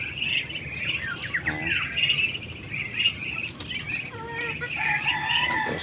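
Pet ducks and chickens feeding on corn in a backyard, with scattered clucks, chirps and a crow-like call rising over steady low outdoor noise, fairly close and continuous.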